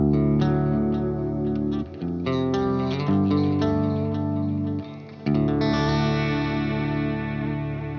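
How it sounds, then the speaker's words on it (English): Electric guitar chords ring out through a BOSS pedal in vibrato mode, a wavering, pitch-bending modulation, played continuously with brief pauses between phrases. "you can hear it's in vibrato mode there"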